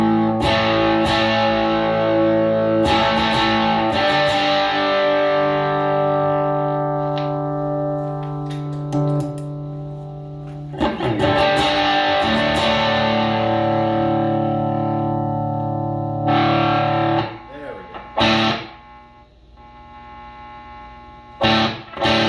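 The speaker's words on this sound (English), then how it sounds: "the power boost is kind of noisy, especially at higher gains" A heavily gained electric guitar through a Colorsound power boost pedal rings out sustained chords with a constant hiss and hum underneath, the noise staying audible as notes fade.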